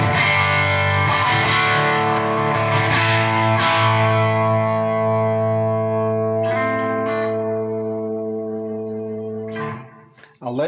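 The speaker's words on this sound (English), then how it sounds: "the blues driver does that bit of squidginess that works really nicely" Electric guitar through a Boss Katana amp with the Blues Driver effect switched on: a few slightly overdriven chords rung out close and loud, sustaining and slowly fading, with a brief new strum at the end.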